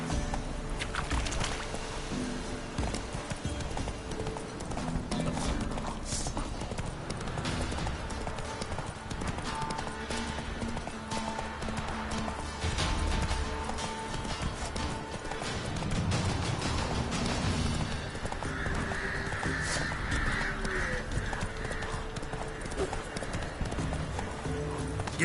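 Horse hooves gallop in The Witcher 3, a continuous clip-clop rhythm buried in dense game music and ambience, with occasional speech.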